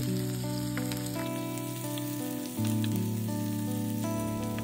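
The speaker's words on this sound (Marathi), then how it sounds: "2 मिनिटांसाठी आपल्याला भाज्या व्यवस्थित परतून घ्यायच्या आहेत" Vegetables stir-fried in a pan give a continuous, even sizzle under a layer of steady tonal background music, with no voices.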